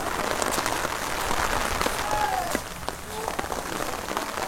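Heavy rain pours steadily on a primary school shelter on a remote West Bengal island, a dense hiss filling the whole stretch with scattered drops and patter, loud and continuous.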